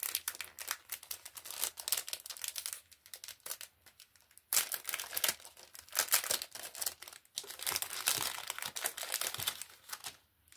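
Packet of turquoise feather stickers being opened by hand, with bursts of close crinkling and tearing plastic that stop briefly, then resume in loud, dense rustles.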